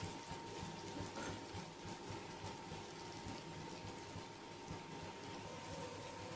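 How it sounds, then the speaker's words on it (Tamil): Water pours steadily into a cooking pot of prawn curry with a continuous rushing, splashing sound, fairly faint and unbroken throughout. "நான் இந்த சொம்பால் 2 சொம்பு தண்ணி ஊற்றிருக்கேன்."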